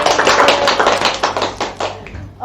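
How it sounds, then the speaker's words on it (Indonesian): Audience clapping at a school student-council (OSIS) talk session at an SMK, a dense burst of applause that is loud and sustained, then gradually thinning out over a couple of seconds. "Tepuk tangan untuk kita semua"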